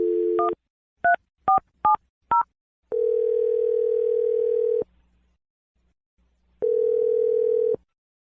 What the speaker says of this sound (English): Let's dial the phone number right now.